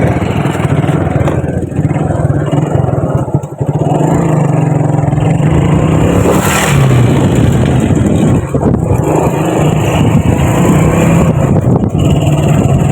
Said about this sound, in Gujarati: મેઘો રેસ થોડોક રાખજો એટલે હાલશે.